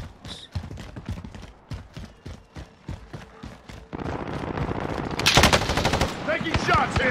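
Rapid automatic gunfire in the battle royale game Call of Duty: Warzone, sharp repeated bursts that grow denser and louder toward the end, with short gaps between volleys.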